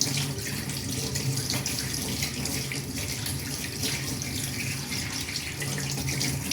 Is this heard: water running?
yes